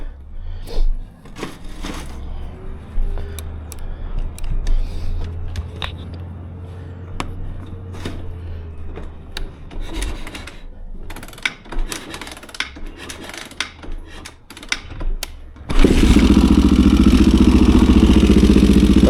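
A warmed-up 1986 Honda XR628R dirt bike with dual carbs, first kicked over amid scattered clanks and scuffs, then catches and runs with a loud, steady engine drone in the final seconds.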